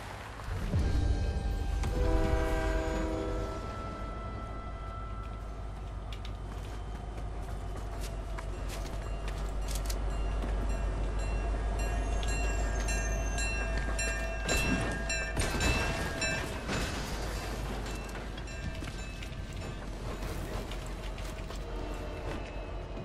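Train moving in a video game, a long rumbling run with low rolling drone, metallic rattles and horn-like tones rising and falling, loud and continuous with bursts of clatter midway, no voices.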